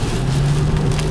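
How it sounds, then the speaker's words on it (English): Heavy rain pours down steadily during a hurricane, a dense, continuous wash of noise with a low hum underneath, loud and unbroken throughout. "it's still pouring rain"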